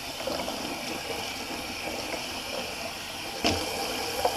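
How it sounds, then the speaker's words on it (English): A Semogue 30 shaving brush rinsed under running tap water, a steady broadband wash of flowing water with a brief louder splash near the end, no talking. "Let me just rinse out my Semogue 30 real quick"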